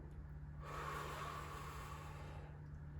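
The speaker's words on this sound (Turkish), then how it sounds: "Nefesimi boşaltıyorum." A long exhale during a pulmonary rehabilitation breathing exercise, a soft, close airy rush lasting about two seconds over faint steady hum.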